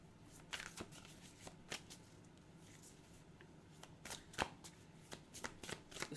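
Playing cards being shuffled close up, quiet riffles and soft flicks repeating in irregular bursts.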